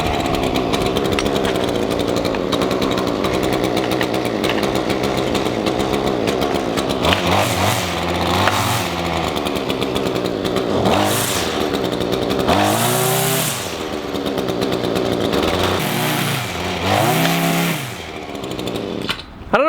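A gas string trimmer fitted with a Speed Feed head runs loud and close, its two-stroke engine droning steadily before revving up and down in several sharp surges, with no talk.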